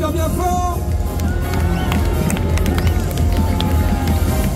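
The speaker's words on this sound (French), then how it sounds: "On peut l'applaudir." At Paris Games Week, during a Capcom cosplay parade, a crowd claps for a cosplayer, a busy spread of applause mixed with hubbub and nearby voices, loud and continuous throughout.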